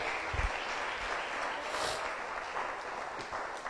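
Steady applause from a church congregation fills the whole stretch, dense and even, with a few louder claps rising out of the wash.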